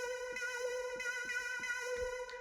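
A single synth note repeats an EDM build-up melody rhythm, bright buzzy tones pulsing in an uneven pattern, steady and close with no talk.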